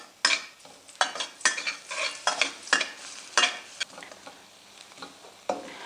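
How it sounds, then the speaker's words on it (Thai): Garlic stir-fried in vegetable oil in a pan, a run of sharp scraping strokes from the spatula over a steady sizzle, close and fairly loud with no talking. "ตั้งกระทะใส่น้ำมันพืชลงไปตามด้วยกระเทียมค่ะ ผัดกระเทียมให้หอมเลยค่ะ"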